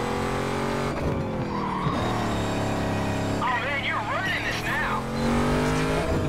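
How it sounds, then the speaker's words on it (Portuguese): A Pontiac GTO races in Need for Speed Carbon Redux, its steady engine drone joined by drawn-out tire squeals as it skids through corners, while a player chats over the game sound. "o carro é rápido, mano. Só é ruim pra controlar"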